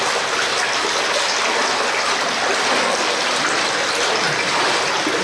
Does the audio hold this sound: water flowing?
yes